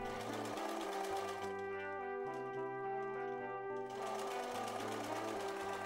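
A sewing machine runs continuously through loosely woven wool check fabric while making a utility pocket from scrap fabric, giving a steady, fairly loud, tonal hum throughout with no talking.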